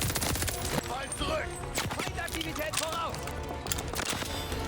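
Sustained gunfire from a weapon in the shooter game Call of Duty: Vanguard, loud rapid shots filling the mix with battle noise and brief voices underneath.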